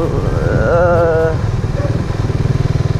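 Suzuki Raider R150 Fi motorcycle engine under way while riding, a loud, close, rhythmic pulsing drone that stays steady throughout, with a brief voice over it.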